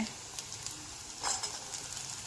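Onions sauté in a pan as peas and carrots go in: a faint, steady sizzle with a brief louder rustle partway through, low in level.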